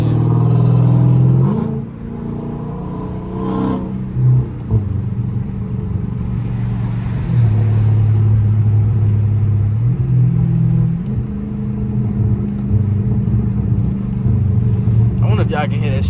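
A 500-horsepower Dodge Challenger Scat Pack V8 cruising on a freeway gives a steady, deep exhaust drone with low burbling swells. It stays loud and close throughout, with a voice speaking over it at times.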